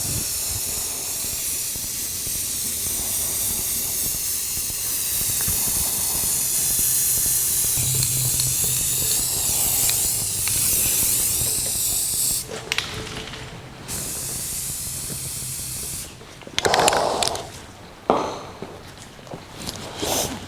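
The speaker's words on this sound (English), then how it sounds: "I know I'm only using spray cans, but you know, do the best you can. This is self-etching primer." Self-etching primer hisses steadily from an aerosol spray can during rust repair on a 1949 Chevrolet gasser, a long continuous spray broken by a few shorter bursts near the end.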